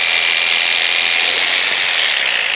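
A power tool cuts a retaining ring from the top of a plastic drum silo for an oyster nursery, giving a loud, continuous high-pitched whine and buzz at close range, with no talk.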